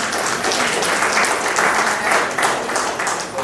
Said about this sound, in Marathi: एकदा जोरदार परत टाळ्या वाजवाव्या.